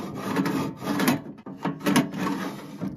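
Small Kobalt toolbox drawer sliding on greased metal-on-metal slides, giving close, scratchy rasping slides repeated in two main strokes, slightly rough and uneven, with no talking.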